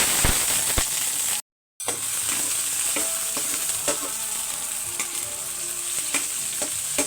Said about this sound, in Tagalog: Isa muna tayo ng bawang, sibuyas, luya, at saka kamatis